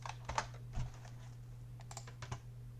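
Keys clack on a computer keyboard in short irregular bursts of a few taps each, close and moderately quiet over a steady low electrical hum.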